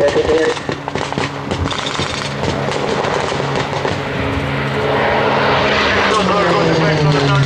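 A Pilatus PC-9 propeller aircraft flies over during a multinational military exercise providing close air support, its engine drone rising and swelling in the second half amid sharp cracking bangs and a voice talking over it.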